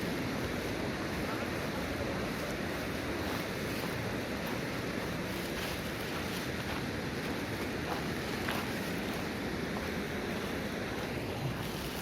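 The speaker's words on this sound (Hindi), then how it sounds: "पानी हो गया देखो, उसके नीचे से जा रहा।" Rushing water from a glacial meltwater stream flowing beneath the Gangotri glacier near Gaumukh, a steady broadband roar filling the whole span with wind buffeting the microphone.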